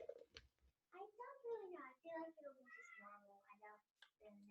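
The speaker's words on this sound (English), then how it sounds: "how's Ben the cat feeling for this one?" A cat's meows come through close and fairly quiet, rising and falling in pitch, with a voice and other talk mixed in.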